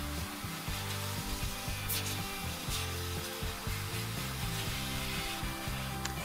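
A steady, loud whooshing blow from a K9 Fluffer dog grooming dryer drying a Standard Poodle runs throughout, with a rough fluttering texture and faint scraping underneath.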